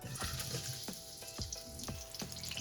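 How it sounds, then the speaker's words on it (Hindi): Sliced onions drop into hot oil in a karahi, a steady sizzle and frying hiss close by with soft irregular pops and stirring scrapes, and no talking over it. "देखिए मैंने ऑयल डाल दिया है कढ़ाई में। अब इसके साथ ही मैं प्याज डालूंगी।"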